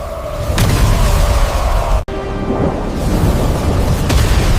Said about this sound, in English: The lightning strikes with absolute fury, scattering the shadowy horde.